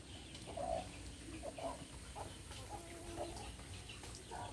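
Chickens clucking softly at a distance, short scattered clucks and calls over a quiet outdoor background.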